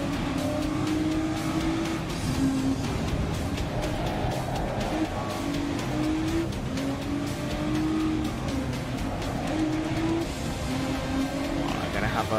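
A Ford GT race car in the GRID Legends racing game roars through a final lap, engine climbing through repeated gear changes with a rising and falling whine under steady commentary.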